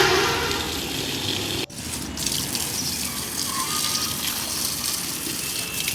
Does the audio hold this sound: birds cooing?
no